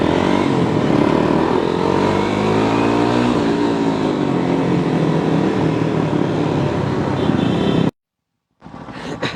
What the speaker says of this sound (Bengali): বাজারের ভিতর দিয়ে এতগুলো বাইক একসাথে ঢুকতেছে